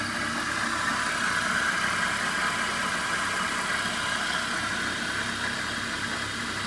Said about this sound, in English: Now 2000 RPM. Same thing, spindle speed coincides with our given speed.